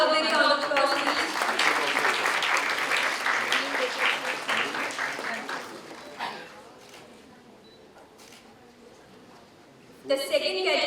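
An audience at a moot court competition valedictory ceremony applauds an award winner with loud, dense clapping that tapers off after about six seconds into quiet room noise, and a voice returns near the end.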